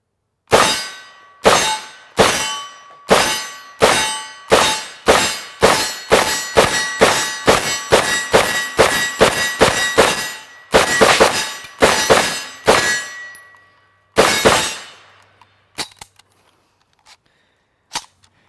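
A Century Arms UZI UC-9 9mm carbine fires from a 25-round magazine: more than twenty loud, sharp, ringing shots at a steady semi-automatic pace, then a pause and a few scattered clicks and knocks.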